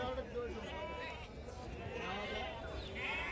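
Kenguri sheep bleat repeatedly at a busy weekly sheep market in Sindhanur, their wavering calls rising over a constant crowd murmur and nearby talking.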